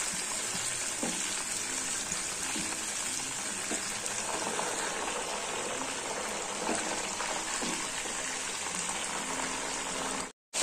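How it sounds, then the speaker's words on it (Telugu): Masala peanuts frying in a pan of hot oil, a steady close bubbling sizzle that runs unbroken for about ten seconds before cutting off. "ఇట్లా కొన్ని కొన్ని వేసుకుంటూ వేయించుకోవాలి."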